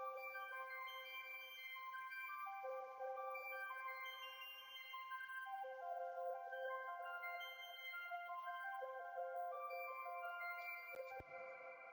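Reversed pad chords made in FL Studio swell in sustained, smooth synth tones that shift to new chords every few seconds and stand alone without talk, with a sharp cut near the end.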